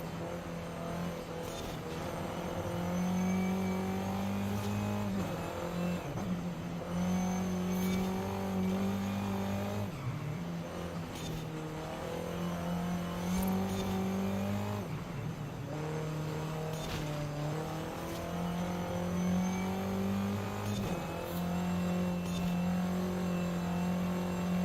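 A car engine drones in Forza Horizon, revving up and down through repeated gear changes in a steady, moderately quiet driving loop with no talk.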